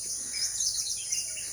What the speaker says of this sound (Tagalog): Dinig yung huni ng mga ibon.